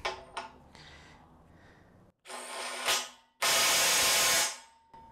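A compact DeWalt impact wrench loosening, heard in several bursts: a short whir, a pause, then a louder sustained hammering run that cuts off, close and loud with no talk.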